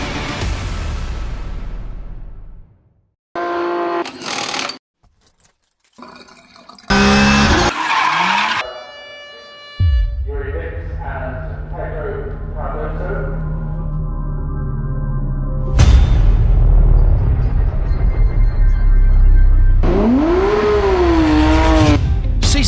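Porsche GT3 Cup race cars at the Bahrain International Circuit scream past with rising and falling engine notes, tyre squeal and sharp gear changes, some passes close and loud, others trailing off, with brief gaps between.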